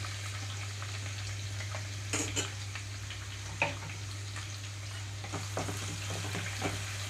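Onions, chopped dried red chilies and curry leaves frying in a pan for a thotakura amaranth-leaf gravy, a soft steady sizzle over a low hum with a few scattered utensil knocks, fairly quiet and without talk.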